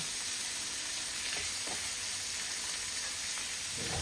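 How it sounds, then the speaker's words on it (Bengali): Paneer frying one side until brown over a low flame, a steady close sizzle with faint scraping stirs and no talk. "আঁচটা কম করে দেবো। এক সাইডটা ব্রাউন করে ভেজে নেব।"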